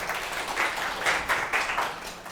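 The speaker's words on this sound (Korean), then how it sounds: "박수로 여러분" Audience applause at a campus recruiting event, a steady burst of many hands clapping at moderate loudness for a couple of seconds.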